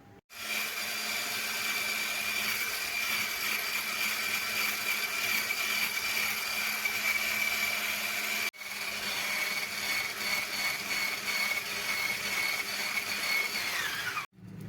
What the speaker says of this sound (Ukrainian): Все разом збиваю у білу пишну масу.